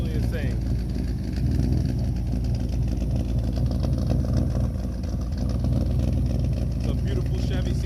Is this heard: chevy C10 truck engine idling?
yes